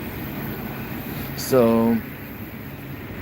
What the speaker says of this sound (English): we are traveling on the Artic train, which is completely almost empty